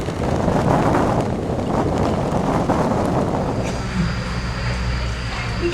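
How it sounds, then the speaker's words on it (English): Strong wind gusts buffet the microphone on a lakeshore in Banff, a loud continuous roar of broadband rumble with a faint steady tone appearing near the end. "the wind was really starting to kick up"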